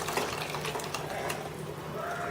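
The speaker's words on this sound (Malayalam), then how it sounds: "ഇനി നമുക്ക് ഇതിലേക്ക് മോര് ആഡ് ചെയ്യാം" Buttermilk poured into a simmering Kerala moru curry on the stove, a steady close splashing, bubbling liquid rush that runs on without a break.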